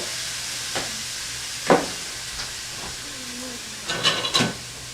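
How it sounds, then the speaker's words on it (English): Onions hit a hot wok for veggie chili, giving a soft, steady sizzle and hiss under a few sharp clanks and scrapes of utensils, close and moderately quiet. "We'll throw the onions in it."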